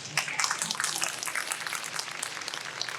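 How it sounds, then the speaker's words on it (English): Sustained applause from a fan convention audience at Nostalgia Con Anaheim, a dense crowd of hands clapping steadily for about three seconds at moderate loudness, without a break and with no talk over it. "Round of applause, everybody."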